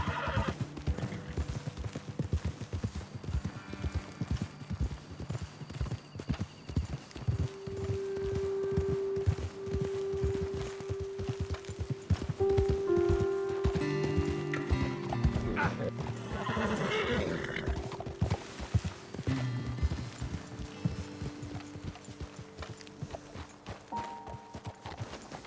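Horses ridden in the video game Red Dead Redemption 2 clop along steadily for the whole stretch, with occasional whinnies and snorts over a sustained musical drone and no talking.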